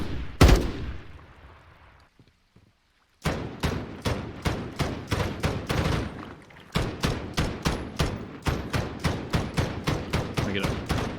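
Call of Duty gunfire: a single sharp shot, a short quiet gap, then rapid bursts of automatic fire cracking in a fast, regular rhythm, close and punchy, with no talk.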